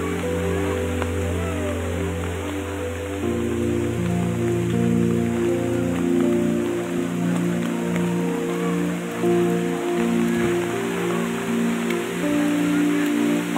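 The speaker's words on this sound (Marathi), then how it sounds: "पाऊस खूप आहे" Heavy monsoon rain pours down on a foggy hillside near a waterfall, a dense, unbroken hiss with a steady tonal hum running alongside it.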